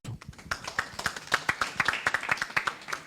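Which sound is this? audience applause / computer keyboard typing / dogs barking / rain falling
audience applause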